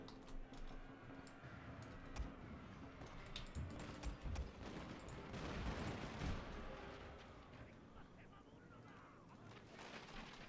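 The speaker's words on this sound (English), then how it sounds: "Volley fire. Oh no, we have to reload." Musket volley fire in the Shogun 2 Total War video game, heard as a faint crackle of many distant shots and dull booms under a dense battle din, with a voice talking over it.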